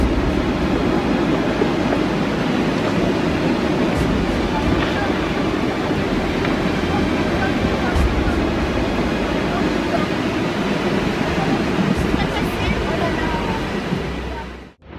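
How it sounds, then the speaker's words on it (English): A spring avalanche pours down into a mountain stream in the French Alps, a dense, unbroken roaring rush of snow and water held at steady loudness throughout, cutting off abruptly at the end. "Brave climbers captured this classic spring avalanche in the French Alps on video."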